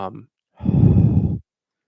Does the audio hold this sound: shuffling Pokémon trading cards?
no